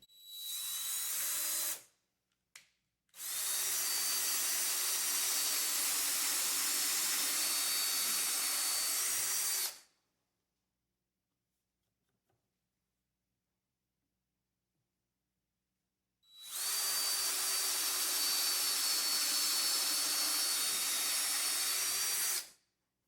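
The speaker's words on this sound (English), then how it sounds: "And drill slowly and evenly and straight." A power drill bores into a wooden drawer front during hardware installation, a steady high whine in two long bursts separated by a brief blip and a long silence, close and alone.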